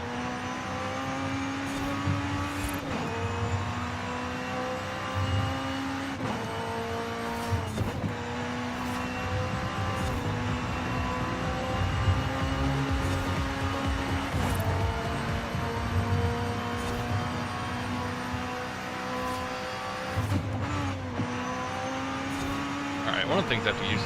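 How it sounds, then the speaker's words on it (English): A racing car in the video game Forza Horizon 5 drives continuously, its engine droning and rising through repeated gear shifts with a steady turbo whine on top, loud and unbroken throughout. "I can actually still hear what the engine is doing at some level"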